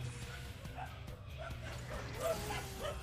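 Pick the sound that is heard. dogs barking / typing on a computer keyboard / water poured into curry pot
dogs barking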